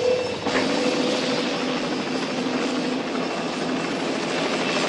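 Helicopter rotor and engine noise fills the scene steadily and loudly throughout, a dense continuous drone with no voices over it.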